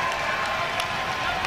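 A college basketball arena crowd roaring with cheers and scattered clapping during a free throw, a dense, steady wash of noise close around.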